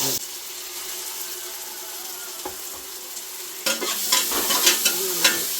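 Tomato, ginger and garlic paste sautés in a pan with a continuous close sizzle, then grows busier and louder in the second half as stirring scrapes and crackles pick up.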